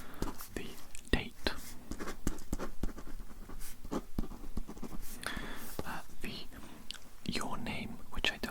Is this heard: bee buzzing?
no